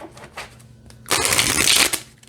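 A deck of tarot cards is riffled in a quick, dense burst of crisp flutters after a few soft handling sounds, close and fairly loud.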